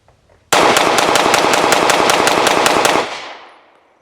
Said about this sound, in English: one of the biggest things about this pistol is that it can shoot very fast.